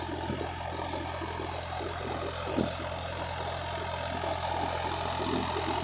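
A Farmtrac 60 tractor engine drones steadily under load pulling a 7-foot Sonalika rotavator, a low mechanical rumble with a faint rattle, fairly close and unchanging.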